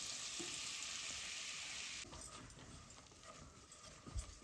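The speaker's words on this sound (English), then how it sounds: "Right, so I'm just adding the flour in." Flour being stirred into melted butter in a hot pan for a creamy white pasta sauce, a steady close sizzle with scraping stir strokes that softens partway through.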